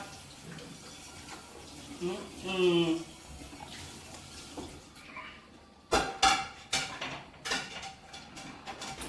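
A plate is washed up at a home sink, with running water and the clink of dishes, then sharper clatters, while a voice talks at times.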